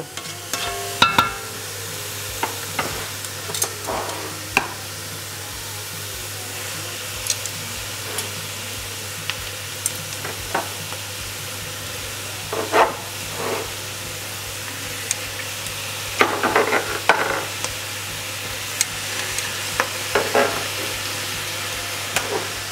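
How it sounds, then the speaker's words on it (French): Meat pieces returned to a pot for a Flemish carbonade, sizzling and being stirred, with scattered clinks and scrapes of a utensil against the pot over a steady frying hiss, close up and with no talking. "Et puis je vais replacer les morceaux de viande."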